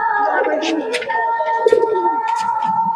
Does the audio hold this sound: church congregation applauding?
no